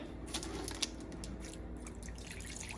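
Water poured into sourdough sandwich bread dough, faint dripping and trickling splashes over a steady low background hum, no talking.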